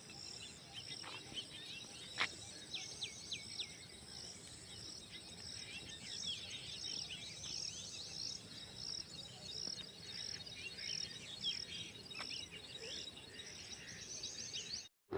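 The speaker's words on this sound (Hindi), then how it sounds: "नेचुरली ही चिड़ियों की आवाज़ें आ रही थी" Faint, distant birds chirp and trill outdoors against a soft background hiss, with scattered high calls throughout.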